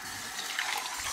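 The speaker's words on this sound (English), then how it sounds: "So I'm gonna add some more water." Water pours into a blender holding a thick, pesto-like blend, a short close splashing gush heard alone.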